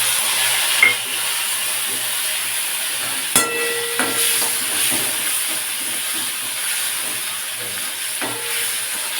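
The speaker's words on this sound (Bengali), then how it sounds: "তেল ভালো গরম হয়ে গেছে আমি চটপট করে জিরেগুলো ফাটতে শুরু করে দিয়েছি" Cumin seeds crackling in hot oil in a pan, a steady close sizzle and hiss with occasional sharp pops and a brief metallic clink, no speech.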